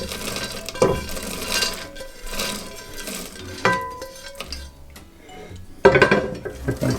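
Raw peanuts tipped into a hot pan and stirred for Indian peanut chikki give scattered clinks and rattles of nuts against metal, with a sharp burst of clattering near the end over low kitchen background.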